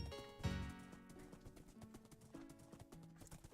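Horse hooves in the Wynncraft Minecraft video game, a steady run of clip-clop footfalls over background game music, with one louder thump near the start.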